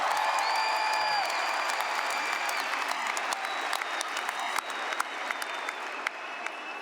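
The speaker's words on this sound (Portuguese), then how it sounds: "uma salva de palmas para Jesus" A church congregation applauds for Jesus, a broad wash of many clapping hands, steady and moderately distant, sustained for several seconds without speech.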